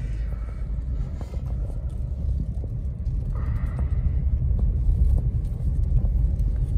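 A Baleno car drives over a rough, broken road, heard from inside as a loud continuous low rumble with small bumps and rattles, while someone speaks briefly.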